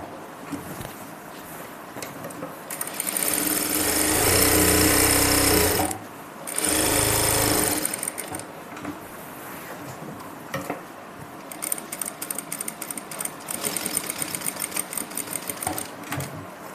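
A sewing machine stitches a pocket on a salwar in two close, loud bursts of fast mechanical whirring and rattling, followed by softer clicks and handling noises.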